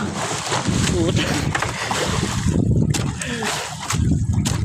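A small boat rocks in strong waves off Burias, with rough water sloshing and wind-driven noise filling the clip while people talk over it.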